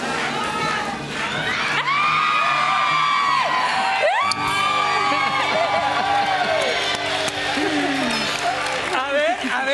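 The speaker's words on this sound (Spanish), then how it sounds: "Estamos aplaudiendo y celebrando, pero no sabemos." A studio audience cheering, whooping and shouting loudly and continuously for a Spanish-language reality show episode, with excited voices rising over the steady crowd noise.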